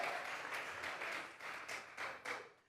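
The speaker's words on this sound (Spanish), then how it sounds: "Regálele ofrenda de palmas al Dios de la gloria" A congregation claps together during a Sunday church service, a steady wash of applause with a few stronger bursts of claps standing out, fairly far off and moderately quiet.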